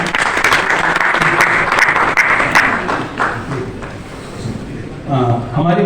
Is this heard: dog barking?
no